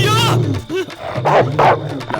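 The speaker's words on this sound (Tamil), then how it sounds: "மாப்பிள்ள நாயிடா" A dog gives a few short, sharp barks and yips close by, spaced out in quick bursts.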